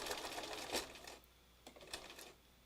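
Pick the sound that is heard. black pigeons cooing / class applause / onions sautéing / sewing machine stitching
sewing machine stitching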